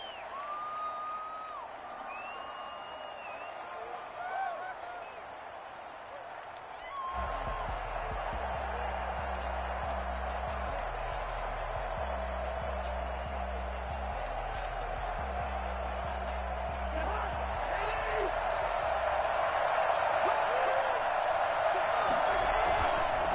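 Stadium crowd roaring for a Minnesota Vikings versus Green Bay Packers matchup in Madden 21, a steady wash of cheering joined by rhythmic low drum-like thumps, with voices audible before the crowd noise rises.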